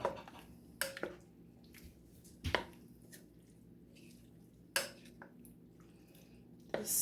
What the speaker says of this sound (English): Let's give this a good stir.